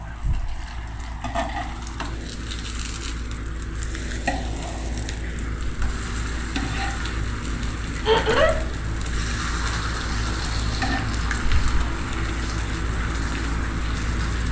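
Merienda snacks fry in hot oil, a loud, dense sizzling that sounds like heavy rain and runs the whole time, with faint stirring and clatter but no clear talk.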